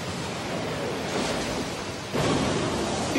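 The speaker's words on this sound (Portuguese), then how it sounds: "Estilo água, jutsu vórtex gigante." A giant water vortex jutsu from the Naruto anime surges as a loud, broad rushing roar of churning water, swelling sharply near the end.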